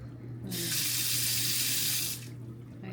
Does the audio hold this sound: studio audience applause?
no